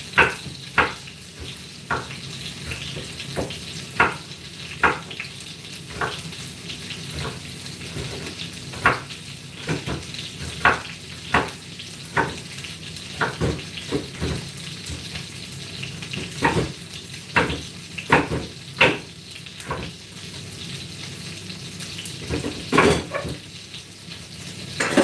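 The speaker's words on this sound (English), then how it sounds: "We're gonna cook down the chicken." Chicken sizzles and fries in a pot for a home-cooked dinner, with a steady crackle broken by repeated sharp scrapes and clanks of a utensil stirring against the pot, close and fairly loud.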